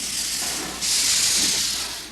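An American-built 1900 Baldwin steam locomotive on the Guayaquil to Quito line releases a loud, steady hiss of steam that swells sharply partway through and holds near and strong.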